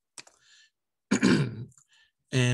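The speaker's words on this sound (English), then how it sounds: "Excuse me, clear my throat." A man clears his throat close to the microphone in a classroom lesson held over a video call: a few short, rough bursts separated by brief pauses, with nothing else around them.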